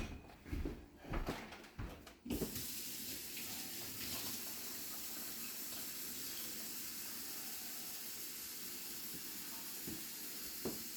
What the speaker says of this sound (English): So we're going to rinse that out good, dump it in there.